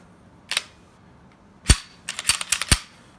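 A CZ P10c pistol's slide is racked by hand during a safety check with an empty magazine: a sharp metallic clack, then a cluster of quick clicks and snaps, close and crisp against a quiet room.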